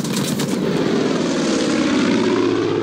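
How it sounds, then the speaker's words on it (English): A propeller airplane in Far Cry 5 drones loudly and steadily overhead, a broad engine roar filling the whole stretch with no voices. "that damn airplane!"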